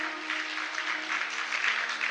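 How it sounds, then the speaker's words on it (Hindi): An audience claps continuously at a Bhagavat katha, a Hindu religious discourse. The applause makes a steady, dense wash of sound with a faint sustained tone underneath, and there is no talking. "पीछे वारे ताली धीरे बजाओ, लग जाएगी हाथन में। हौले हौले बजाओ"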